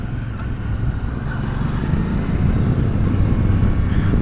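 A Honda motorcycle being ridden, its engine a steady low drone mixed with rushing wind noise that builds slightly and holds, with no talk.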